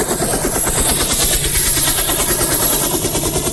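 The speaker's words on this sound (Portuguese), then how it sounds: "já tá para ouvir aqui as turbinas sendo acionadas. Atenção, hangar. Helicóptero decolando." A loud, steady mechanical roar with rapid rhythmic chopping and a high whine as a helicopter's turbines start and it takes off, close and continuous.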